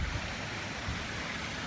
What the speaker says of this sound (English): It's kind of attack of the raindrops right now.